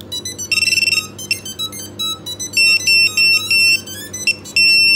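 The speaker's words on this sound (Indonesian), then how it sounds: "Terus buzzer nyala, low bat ya." Repeated electronic beeps and buzzer tones from a drone's low-battery alarm in short bursts, some rapid and some sustained, sounding close and fairly loud over a low background hum.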